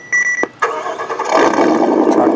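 A Tamiya Toyota Tundra High Lift RC truck with an MFC-02 sound unit plays its engine start: a short electronic beep and click, then a synthesized cranking that catches into a loud, steady idle rumble, close by.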